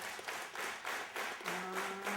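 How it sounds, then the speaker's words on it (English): An audience at a concert for the Arhoolie Records 50th anniversary claps hands in time, steady rhythmic beats about twice a second, with a faint sustained musical tone underneath. "Hey, let me hear you clap your hands."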